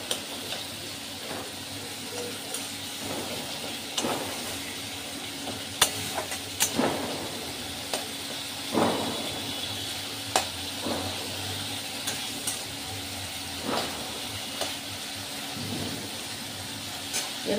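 Banana flower being stir-fried in a pan for mochar ghonto over a medium gas flame, a steady soft sizzle with repeated scraping stir strokes and light clinks spaced every second or two.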